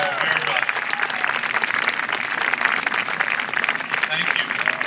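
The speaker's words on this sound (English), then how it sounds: "Let's give them a round of applause." A crowd applauds a community wind band at a concert, steady full-room clapping throughout with faint voices underneath.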